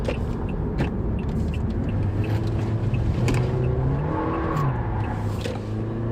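A 2016 Toyota Corolla drives at a steady pace, its engine droning with a slowly rising pitch under constant road and wind noise from inside the cabin.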